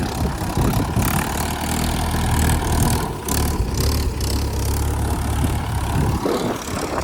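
A heavy tractor engine idles steadily nearby, a continuous low chugging rumble that holds even before dropping slightly near the end.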